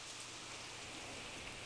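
A steady, soft hiss of light rain falling, even and continuous with no distinct drops standing out, fairly quiet throughout.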